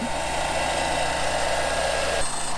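A Ventrac compact tractor's engine idles steadily nearby, a low continuous hum with a constant tonal drone, running alone without talk and shifting slightly near the end.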